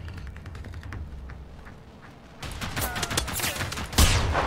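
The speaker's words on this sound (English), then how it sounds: "Just randomly shooting." Gunfire in the video game Generation Zero: after a quiet stretch, a dense run of loud, rapid shots and bursts breaks out, building to a heavy blast near the end.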